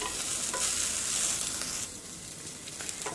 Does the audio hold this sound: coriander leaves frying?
yes